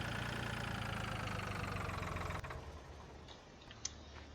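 A tractor engine idles in Farming Simulator 2013, a steady pulsing mid-low rumble that cuts off abruptly partway through, leaving a quieter fading tail and a single faint click.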